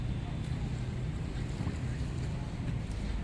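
A fishing boat heads out across Manila Bay, its engine a steady low drone beneath constant wind buffeting and lapping water, unbroken for the whole stretch.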